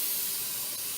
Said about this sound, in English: the steam is just blowing out of there